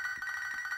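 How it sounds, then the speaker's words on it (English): Phone ringing in a Pokemon video game stranded-on-an-island scenario: a steady electronic ringing tone that pulses continuously through the short moment, moderately loud and alone. "Dude, the phone's ringing again."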